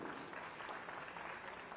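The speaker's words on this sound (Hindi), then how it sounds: "जोरदार तालियों के साथ अभिवादन करें।" Steady, dense applause from a crowd at a Doctors' Day event, greeting the chief minister, continuing evenly throughout with no talking.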